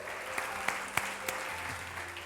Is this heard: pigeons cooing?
no